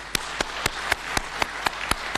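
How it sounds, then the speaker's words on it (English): Clapping from an audience at an airport inauguration ceremony, heard as a series of about nine sharp, evenly spaced claps over a steady background hum, with no talking. "I would request you to have a round of applause for our Chinese friends"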